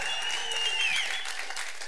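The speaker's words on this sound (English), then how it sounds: "let's take the first 10 seconds and clap" Dense, steady audience applause filling a conference hall, loud and continuous with a few faint whistles and shouts mixed in.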